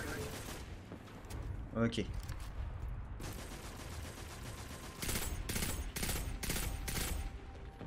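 Enemy gunfire in Destiny 2: scattered single shots early on, then a rapid volley of several cracks near the end, over game ambience, with a brief spoken word in between.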